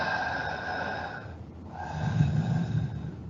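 Audible breathing through the nose, demonstrated as a slow natural inhale and exhale, a soft airy rush that rises and falls over a few seconds with a short pause between, close and clear with no talk over it.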